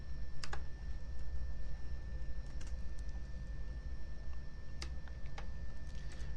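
Steady clicking of a computer keyboard as someone types notes, rapid uneven keystrokes close by over a low constant hum, with a few sharper taps standing out.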